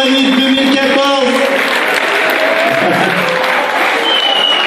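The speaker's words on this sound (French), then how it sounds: "Applaudissements pour Inès," Loud, sustained audience applause at the Miss Montmagny beauty pageant, a Kabyle-dress event, crowning Inès as Miss Montmagny 2014. The clapping fills the room steadily, with a few voices and cheers mixed in.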